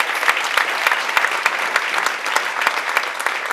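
Audience applause at a Haitian Roundtable event, a thick, even patter of many hands clapping with crisp individual claps standing out, sustained at a fairly loud, steady level throughout.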